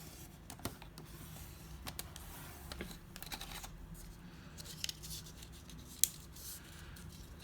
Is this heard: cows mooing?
no